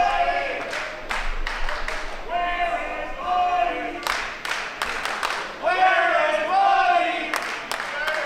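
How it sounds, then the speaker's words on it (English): Crowd at a live NWL wrestling show chanting and cheering for Buddy Shepard, rhythmic shouted bursts with thuds and claps, loud and close, with a voice talking in between. "Crowd chanting for Buddy Shepard."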